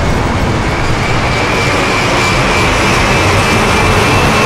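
Fast vehicle passing at speed, captured as raw material for a sniper bullet kill-cam sound, a loud, dense broadband roar of wind and engine rush held steady and close throughout.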